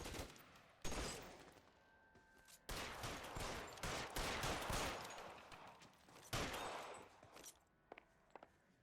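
Loud gunshots crack out in separate bursts and a few quick volleys during a shootout in the video game L.A. Noire, close and sharp, with near-silent gaps between them.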